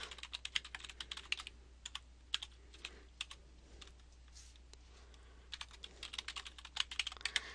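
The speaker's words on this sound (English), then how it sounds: "So I'm going to type in my email address." An email address being typed on a computer keyboard: quick bursts of light, close key clicks with short pauses between runs, quiet and with no voice over them.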